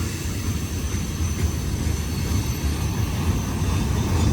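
A long Norfolk Southern freight train of about 100 cars rolls past a three-track railroad crossing, a loud, steady, close rumble with a constant low roar and faint high squeal.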